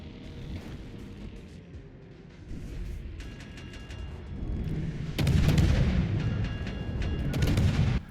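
Battleship gunfire in World of Warships Legends: deep rumbling booms and artillery blasts build in intensity, with heavy low impacts and crackling bursts toward the end, loud and continuous with no talking.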